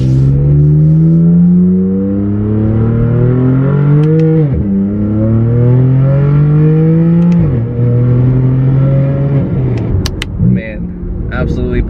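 BMW M2, M3 or M4 exhaust fitted with a mid pipe, revved repeatedly up and down in close, loud, throaty sweeps that drop sharply between pulls, with a person talking over parts of it.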